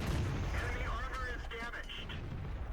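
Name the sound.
tank gun firing in video game World of Tanks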